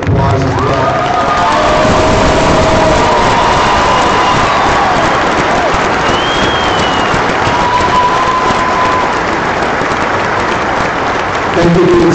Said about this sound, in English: We would like to thank you with a generous round of applause as well.